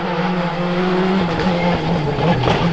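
A Citroen C3 rally car on a gravel stage of the Rally Terra Sarda, its engine note loud and close with steady harmonic tones that rise and fall, plus brief tire and gravel noise.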